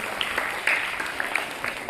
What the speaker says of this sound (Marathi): सर्वांनी टाळ्या वाजवण्यासाठी